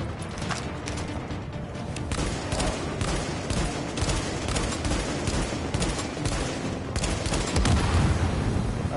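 Dense, continuous video game gunfire rolls on without pause, a steady close barrage of overlapping shots and bursts at fairly even loudness throughout.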